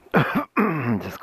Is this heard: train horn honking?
no